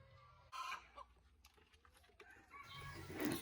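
Older retired hens, over three years old, roam freely in a garden, clucking softly in short bursts at a distance, with faint rustling and a louder stir of activity toward the end.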